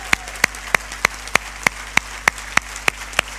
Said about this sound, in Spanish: De hecho, un aplauso.